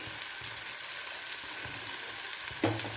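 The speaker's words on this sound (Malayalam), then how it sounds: "ഇത് 3 പ്രാവശ്യമായിട്ട് വറുത്ത് കോരാം" Bitter gourd fries in hot oil with a quiet, steady sizzle and a gentle bubbling hiss, plus a faint stirring knock near the end.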